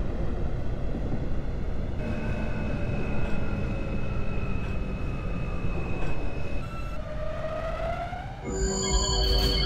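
An R160 G subway train runs in the OpenBVE train simulator between Court Square and Smith-9 St, giving a steady loud rumble with electric motor whines that rise in pitch, and bright high tones toward the end.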